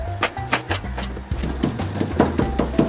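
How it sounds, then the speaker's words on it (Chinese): A cleaver chops pork into mince on a board: quick, regular knocks repeat close by over a low tonal background. "把肉切碎。"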